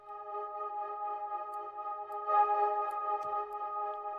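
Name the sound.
distortion effect applied to an old sample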